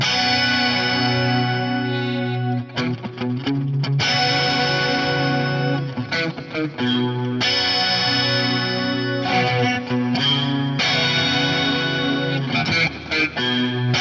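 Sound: electric guitar through quad flanger with reverb and delay

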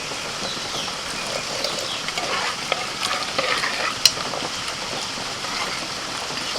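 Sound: hot tempering poured into boiled dal, sizzling

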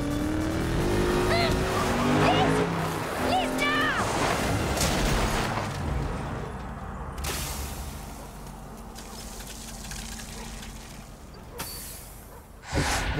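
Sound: car racing sounds from film excerpts

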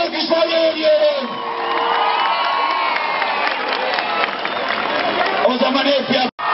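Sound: crowd applauding and cheering at a political rally

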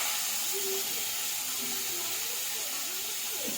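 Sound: potatoes frying in a pan

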